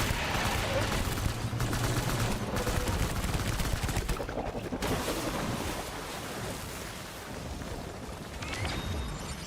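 Gunfire in the Death Stranding video game as a player shoots at red spots, with dense bursts of shots and crashing impacts over a rushing, roaring background for several seconds.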